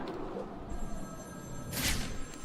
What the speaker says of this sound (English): And there's a ringing telephone.